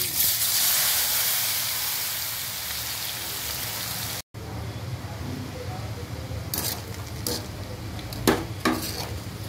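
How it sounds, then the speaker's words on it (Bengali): Steady sizzling and crackling of brinjal frying in hot oil previously used for fish, with occasional clinks and scrapes of a utensil stirring in the pan. "মাছ ভাজার তেলেই আমি এখন বেগুন দিয়ে দিচ্ছি।"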